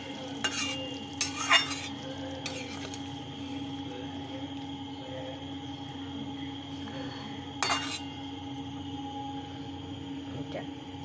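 A spoon stirs a light vegetable curry with gram dal fritters and ghee in a pan, giving a few soft scraping bursts over a quiet, steady background hum.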